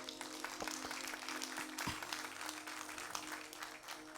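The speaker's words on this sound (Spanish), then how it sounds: "Pues denle un fuerte aplauso al Rey." Steady applause from a church congregation fills the space, with a few sharper claps standing out over a dense, continuous patter.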